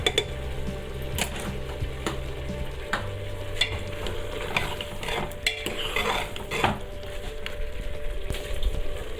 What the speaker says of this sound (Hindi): अब हम इसको डालेंगे थोड़ा सा 1 से 2 मिनट तक इसको भून लेंगे।